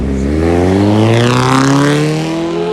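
A car engine drones loudly and rises in pitch as the vehicle drives past close by, steady and continuous throughout.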